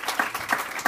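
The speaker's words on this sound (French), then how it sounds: "Ça s'applaudit encore une fois." Audience applause for an award winner at a French-language startup event, close, even clapping from a crowd in a brief burst, no voices over it.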